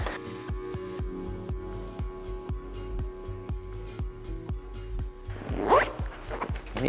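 A short zipper on a hammock's stuff sack is pulled shut in a rapid series of close, evenly spaced ratcheting clicks, ending with a slightly louder final tug.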